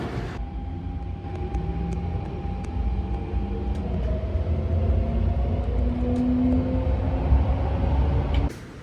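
An airport train idles and rumbles at Hong Kong Station, with low mechanical hum, faint tones and clicks, ending with a sharp clunk like doors or a coupling.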